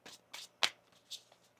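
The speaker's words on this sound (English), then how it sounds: "One more shuffle." Tarot cards are riffled in a short shuffle, a few crisp bursts of papery flicking, close and fairly quiet, with one sharper snap in the middle and no voices.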